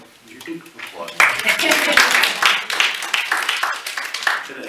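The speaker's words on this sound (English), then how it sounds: "You can applaud." An audience at a city council meeting breaks into clapping that swells quickly after a quiet start and stays lively, a mix of close and scattered hands, with some talk underneath.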